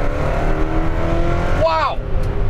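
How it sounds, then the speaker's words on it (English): A lowered 1953 Ford F100 pickup at full throttle after a downshift: a loud, steady engine drone with a quick rising sweep near the middle, like a gear change, then the engine pulls on, heard from close by. "Let's go ahead and kick it down a gear and floor it."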